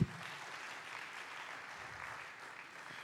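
A conference audience at the Africa Blockchain Conference claps for a session moderator, a soft, even wash of many hands heard from a distance, steady for the whole stretch.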